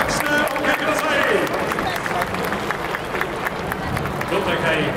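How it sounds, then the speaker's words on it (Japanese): A baseball stadium crowd applauds and cheers for a volleyball player's ceremonial first pitch at a Yakult Swallows versus Yomiuri Giants game, a steady wash of clapping and crowd babble that holds for the whole stretch. "温かい拍手でお受けください"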